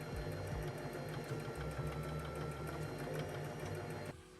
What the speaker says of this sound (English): I'm just going to stitch along long ways, or the width this time